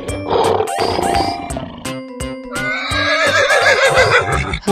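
A lion's roar, played with horse whinnies and other animal calls in a children's animal painting video, loud harmonic bursts following one another in quick succession.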